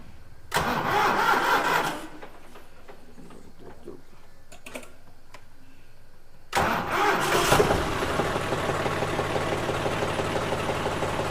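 A 2021-model tractor engine cranks and fires, running briefly before dropping away, then starts again and revs up into a loud, rattling, steady run close by, with no talk.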